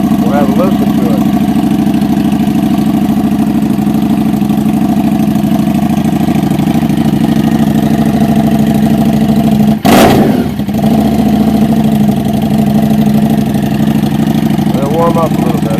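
A 2015 Harley-Davidson Street 750 motorcycle idles outdoors on a cool day, a steady loud low engine rumble that runs evenly throughout, with a brief sharp knock or bump near the middle.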